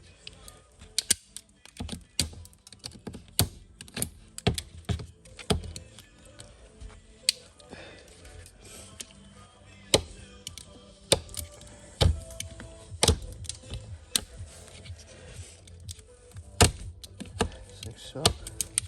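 Plastic tabs being cut off a Porsche 911 997 front door speaker mount being modified for an 8-inch woofer, heard as sharp, irregular snips and clicks spaced through a quiet background.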